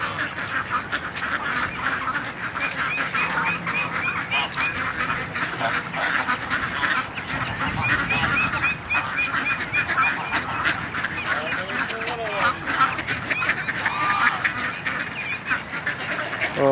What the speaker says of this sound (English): These big guys are Greylag Geese. Then we have a mix of mallards and other different mixtures of ducks.